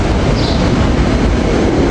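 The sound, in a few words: Fox Chase commuter train 846 arriving at station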